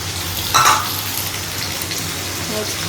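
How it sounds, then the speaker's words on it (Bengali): Potato, papaya and tomato frying together in a pan, a steady close sizzle with a brief louder burst of hissing early on and light clinks later, without speech. "আলু পেঁপে টমেটো দিয়ে সমস্তটা একটু ভাজা ভাজা করে"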